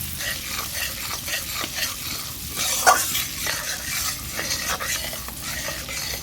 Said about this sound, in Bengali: ফোড়নটাকে খুব সুন্দর আমি নেড়ে চেড়ে নিচ্ছি